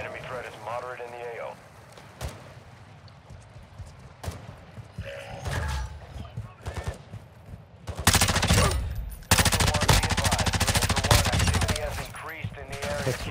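An automated turret fires in Call of Duty Warzone 2.0 DMZ, heard as loud bursts of rapid automatic gunfire that strengthen toward the end, with a person talking in between.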